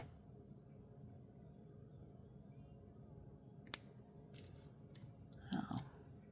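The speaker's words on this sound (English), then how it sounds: "And then we're going to snip that off." A single sharp snip of scissors cutting crochet thread, close and crisp over a quiet room hiss, followed a moment later by a brief soft rustle of handling.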